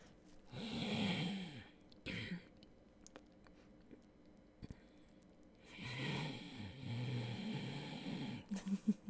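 A person imitates snoring in a soft, close, whispery voice, making two drawn-out rasping snore sounds separated by quiet breathing.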